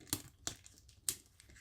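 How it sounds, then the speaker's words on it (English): Scissors cut into a cardboard box during an unboxing of the Imhotep, Builder of Egypt board game, giving three sharp crunchy snips spaced about half a second apart and then a softer rustle. "I don't have a knife with me, so I'm going to use my scissors"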